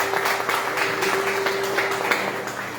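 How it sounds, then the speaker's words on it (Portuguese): A church congregation claps for Jesus during a couples' worship service, a dense steady patter of many hands that continues evenly throughout, with a sustained tone running underneath. "Salve de palmas para o Rei Jesus."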